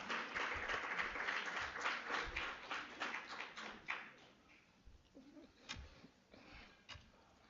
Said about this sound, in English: Let's put our hands together for